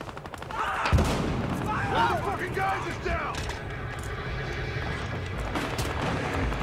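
Gunfire fills a multiplayer match of the video game Battlefield Hardline beta: rapid cracking shots and bursts sound continuously over a dense, noisy battle soundscape.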